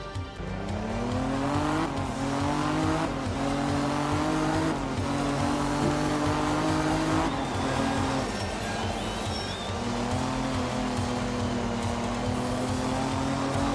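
Turbocharged race car in a Group 4 racing video game, engine droning loudly and steadily as it accelerates through rising gears, with brief tire squeals along the way and no talking.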